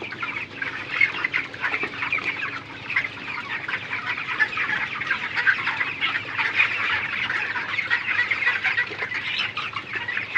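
Dense, continuous chatter of many broiler chickens clucking and peeping at once in hot weather, a steady crowded flock with no talking.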